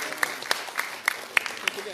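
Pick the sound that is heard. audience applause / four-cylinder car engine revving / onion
audience applause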